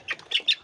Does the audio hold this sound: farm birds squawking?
yes